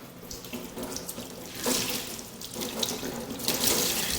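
Tap water runs and splashes into a sink in surges, close by, wetting a cloth, with no voices.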